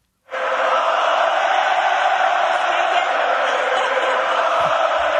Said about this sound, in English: the Bell Center crowd interjected